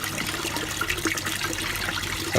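Water churning steadily in a newly filled turtle pond as the filter runs and stirs it, a continuous close-up wash and trickle with no voices.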